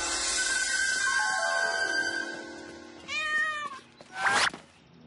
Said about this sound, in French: Les chats miaulent tous pareil.